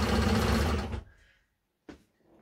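A Cowboy CB6900 compound feed cylinder arm industrial sewing machine runs loud and steady for about a second while winding a bobbin, then stops; a short knock follows.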